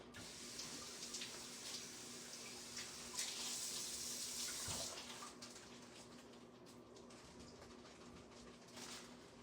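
Tap water runs steadily into a sink while something is rinsed, a broadband wash of sound that swells briefly and continues throughout with no talking.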